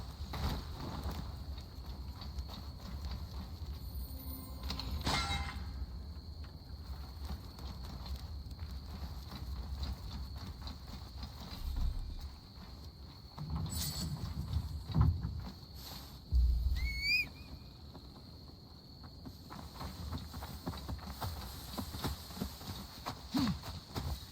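A horse's hooves clip-clop steadily in Assassin's Creed Valhalla as the horse is led along, a soft rhythmic plodding under low ambient game noise, with a few brief thumps and small clanks partway through.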